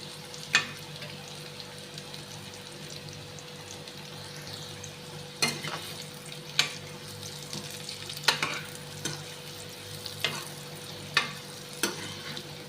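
Amla pickle cooks in a pan with a quiet steady sizzle, broken by occasional sharp scrapes and clicks of a spoon stirring against the metal, no talking.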